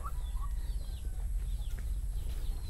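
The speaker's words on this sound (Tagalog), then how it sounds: "mga sisiw, mga tandang at tinahin, tayo ay magpapatuka na." Backyard chickens, chicks and roosters cluck and peep at feeding time, soft chirps and short clucks scattered over a steady low hum, close and moderately quiet.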